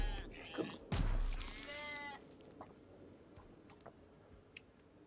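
A sheep bleats loudly in the video game Just Die Already, one short wavering cry alongside a thud, followed by faint ticking game sounds.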